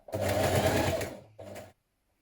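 A sewing machine top stitches a pressed seam at the neckline of a hoodie, running in one steady close burst, pausing briefly, then running again for a shorter stretch before stopping.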